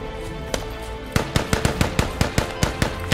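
Gunfire in the Squad war video game: a rapid series of sharp, evenly spaced shots cracks out after a couple of isolated reports, fairly loud with no speech over it.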